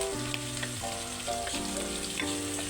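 Vegetables with garlic, onion and tomato sauté in a pan, giving a soft, steady sizzle with light stirring, fairly faint and partly under background music.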